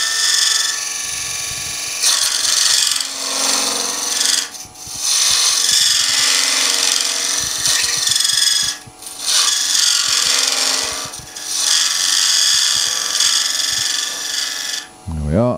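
A wood-turning cutter carves a small recess into a spinning wooden salt and pepper shaker on the lathe, giving a steady scraping, rasping shear in long sustained passes with brief pauses between cuts.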